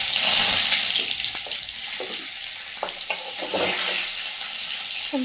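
Garlic hitting hot oil already tempered with cumin seeds, a steady bright frying sizzle with occasional stirring clinks and scrapes, close and fairly loud, no talking.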